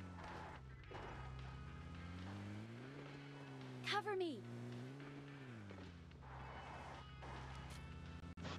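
A car engine drones steadily in a battle-royale shooter game, its pitch rising and falling as the vehicle drives, with a sharp thud or crash partway through and voices talking over it.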